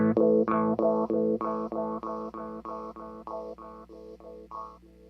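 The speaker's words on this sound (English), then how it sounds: "I'm also going to increase the feedback a little bit just so you can really hear the sweep that's happening" Encounter ambient delay and reverb pedal running a filter sweep with raised depth, tone set to center and added feedback, a steady train of repeated guitar notes with a moving tonal sweep and fading echoes, no talk.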